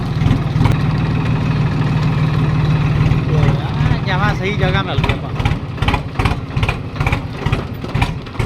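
A Swaraj tractor engine idles at a rural shrine, a steady low rumble running throughout, with people talking over it in the second half.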